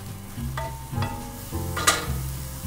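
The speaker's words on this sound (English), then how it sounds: "We're gonna saute it for another minute, stirring constantly until it all absorbs." Shiitake mushrooms sautéed in soy sauce and stirred constantly, a soft sizzle under a low hum with a few scrapes and clinks of the utensil against the pan.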